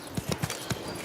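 Roach the horse's hooves clip-clop in Witcher 3: Blood and Wine, a few uneven, fairly close steps over a low ambient bed.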